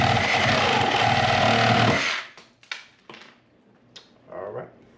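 A power tool cuts through a wood stud during a wood stove installation, a loud, close, buzzing grind for about two seconds that stops abruptly, followed by a few knocks and a short rustle of the wood.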